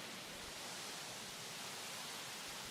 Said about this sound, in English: God, I wish this rain would fuck off.